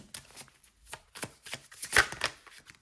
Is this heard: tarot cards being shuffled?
yes